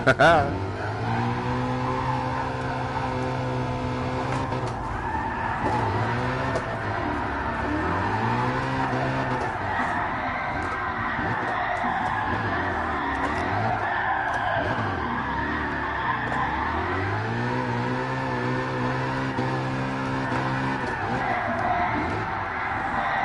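Rally car in Gran Turismo Sport racing a rally stage, engine revving up and down through gear changes with repeated tire skids and slides, loud and continuous, a voice talking intermittently over it.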